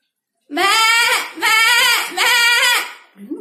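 A voice imitates a lamb's bleat with three loud, quavering calls in a row, each about a second long and separated by short gaps, followed by the start of a fourth.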